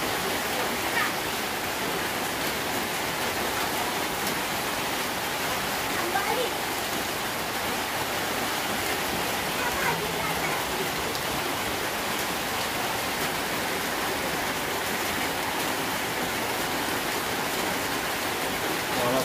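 Steady, dense rain hissing continuously, a broad even wash of falling water with no breaks, fairly loud and close.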